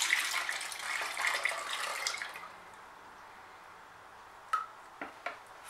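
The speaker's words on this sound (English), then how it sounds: "flip it from one container to the next here, stirring a little while it's in here" Mixed liquid pour paint streams from one container into another with a thick, steady splashing pour for about two seconds, then goes quiet, followed by a few faint drips and light knocks.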